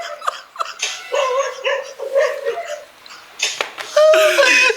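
A frightened dog gives a string of short yelps and barks close by, mixed with people laughing and talking.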